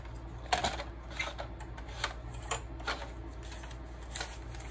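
Paper is trimmed about half an inch for a brochure journal craft, with a run of soft, close cutting snips and rustles at an uneven rhythm over a steady low background hum, and no talking.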